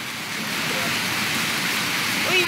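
Floodwater rushes like a stream during a storm and flood in Phu Yen, a steady broad wash of moving water that fills the whole stretch, close and constant, with no voices over it.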